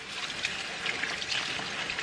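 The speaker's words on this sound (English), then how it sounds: "So then you open the water and you just wash your hands." Tap water runs steadily from a faucet while hands are washed, a soft, even trickle and splash that holds at a constant level throughout, with no voices over it.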